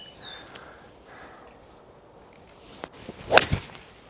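Outdoors on a golf course, a club strikes a ball off the tee with a single sharp, crisp crack preceded by a faint swish of the swing, against quiet background ambience.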